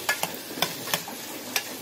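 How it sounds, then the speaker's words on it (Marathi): Onions frying in oil with whole garam masala while being stirred; a low sizzle runs throughout, broken by several sharp scraping strokes of a spoon against the pan. "आता आपल्याला कांदा एकदम छानपैकी एकदम लाल होईपर्यंत फ्राय करून घ्यायचा."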